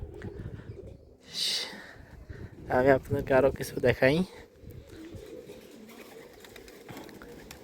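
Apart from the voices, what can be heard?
pigeons cooing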